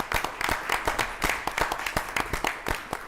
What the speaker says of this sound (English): I want to give you another round of applause